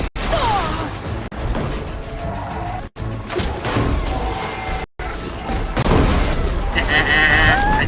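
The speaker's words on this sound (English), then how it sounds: "Explosions for the win." Repeated booming blasts and crashing impacts from explosions in the video game Horizon Forbidden West erupt amid a busy, chaotic soundscape, loud and close, with short silent gaps between bursts.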